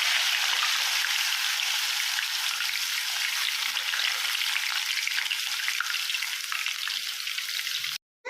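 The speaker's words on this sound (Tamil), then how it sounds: "இப்போ வேக வச்ச சேமியாவை போட்டு பொரிச்சு எடுக்கலாம்" Boiled vermicelli deep frying in hot oil in a kadai, a steady dense sizzle that holds loud and even for about eight seconds before cutting out abruptly near the end.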